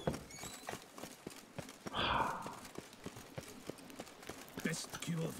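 Roach, a horse in Witcher 3, trots with quick, regular hoof clip-clops, and a brief snort or whinny stands out partway through, over a quiet game backdrop with faint speech.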